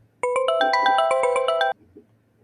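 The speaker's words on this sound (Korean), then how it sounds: "27분이 되자 갑자기 문자 알림음이 울렸어요." A phone text message notification plays once, up close and alone: a bright, rapid chime melody lasting about a second and a half before cutting off into quiet.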